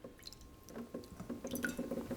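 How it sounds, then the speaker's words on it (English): Fresh fruits and vegetables rinsed under cold running water to wash off a vinegar solution give a close, steady splashing trickle with wet drips and squishy handling sounds. "So the next step to this is to rinse them under cold running water"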